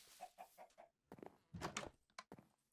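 A Minecraft chicken clucks in a short series of four quick, soft clucks, followed by a burst of louder, rougher game sounds with a few more sharp clucks mixed in.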